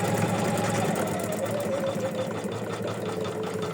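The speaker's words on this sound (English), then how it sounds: "as we slow down our machine. So, when it's a thin stitch, it's usually a good idea to slow it down." An embroidery sewing machine stitching a thin stitch at slowed speed, a steady close mechanical whir with rapid needle clatter running continuously and loud, alone without talk.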